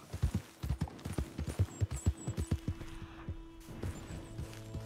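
In Red Dead Redemption 2, a horse gallops with a fast, rhythmic run of close hoofbeats that slows and thins out toward the end.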